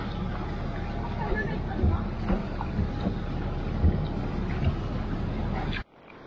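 A boat engine drones steadily as the boat motors out of Horta harbour, under wind buffeting the microphone, with faint background voices and occasional knocks, cutting off abruptly at the end.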